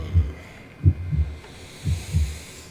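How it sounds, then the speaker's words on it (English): A slow heartbeat thumps in paired lub-dub beats, deep, muffled and close, repeating three times over a faint hum. "the one thing that you start beginning to feel and hear in your eardrums is your own heartbeat"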